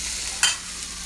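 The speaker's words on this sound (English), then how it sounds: "Onion and ginger garlic. I'm going to fry this until golden brown." Onion, ginger and garlic frying in a pan for chana masala, a steady soft sizzle with a brief louder stir or scrape in the middle, close and without voices.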